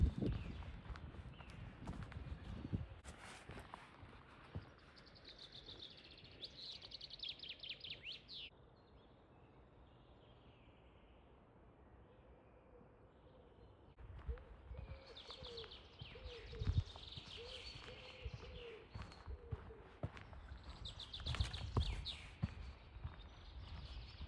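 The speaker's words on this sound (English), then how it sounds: "birds are singing" Birds call and chirp in a forested valley plantation in central Jutland, Denmark, with faint scattered song over quiet ambience, some footsteps or rustling near the start and a stretch of near silence in the middle.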